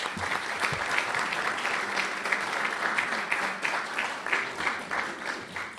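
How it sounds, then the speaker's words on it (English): An audience at a National Press Club luncheon claps in sustained, even applause that fills the room throughout. "Please give them a round of applause."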